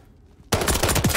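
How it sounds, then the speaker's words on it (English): Shotgun fire in Call of Duty MWIII, a quiet moment broken by a sudden loud burst of blasts that continues dense and close to the end. "This shotgun is so OP close quarters, bro."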